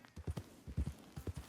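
A horse gallops in Red Dead Online, a quick run of hoof clip-clops in a steady rhythm, moderately near and fairly quiet, with no talk over it.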